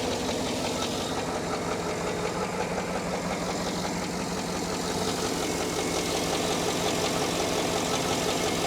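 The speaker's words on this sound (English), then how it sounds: "That's like a knock, knock, knock." Mitsubishi Outlander engine idling with a knock, a close, steady mechanical drone with a rapid, rhythmic knocking running through it the whole time.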